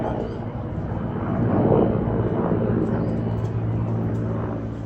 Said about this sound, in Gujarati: તો મિત્રો જો પેલું હેલિકોપ્ટર જાય